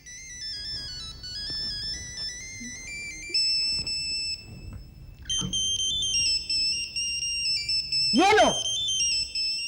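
A mobile phone ringtone plays a loud, sustained electronic melody that shifts pitch in steps throughout, with voices talking underneath and a brief sweeping whistle-like burst near the end.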